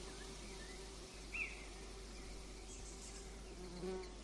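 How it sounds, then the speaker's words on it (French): A hornet buzzes steadily and close for a few seconds in a woodland setting, a continuous droning whine with a slight rise in intensity toward the end. "un frelon un peu trop bavard me permettrait de remonter la piste d'un mystérieux cervidé"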